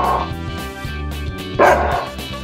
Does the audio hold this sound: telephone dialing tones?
no